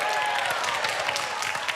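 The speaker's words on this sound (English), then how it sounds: "Let's all give them a round of applause." Applause from a podcast studio audience after a student guest is introduced, a steady dense wash of clapping filling the whole short stretch at an even level.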